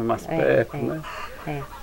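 Chickens clucking close by in a farmyard, short rhythmic clucks mixed with brief talk between people.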